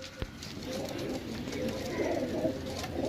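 A female pigeon coos close by in a low, throaty, continuous rolling murmur over a light background hum, with a single sharp tap near the start.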